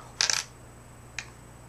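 A Canadian quarter, a breast cancer commemorative coin, is dropped and clinks sharply in a quick cluster of bright metallic rattles, followed about a second later by a single fainter ping, close and alone over quiet room tone.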